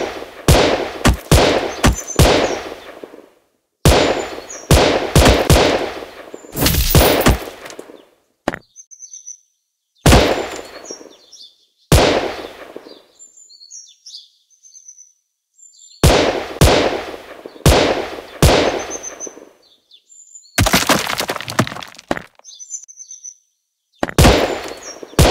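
Bursts of rapid gunfire from a shooting video game crack out in loud clusters separated by silent gaps, some single shots, with small electronic chirps and beeps between volleys.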